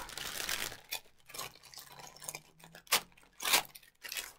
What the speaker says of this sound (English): All I'm doing is rustling.